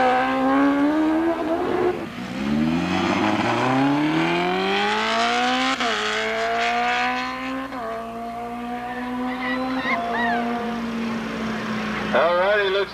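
Kawasaki Ninja drag bikes race side by side down a drag strip at the Wildhorse Saloon Gambler's Classic, engines screaming loud and high as they climb through several gear changes, with a brief tyre chirp and a voice near the end.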